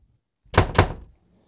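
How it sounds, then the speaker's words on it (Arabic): Two quick, solid knocks on a door, close and fairly loud, with a short hollow ring after them and no talking. "مين اللي بيخبط على الباب؟"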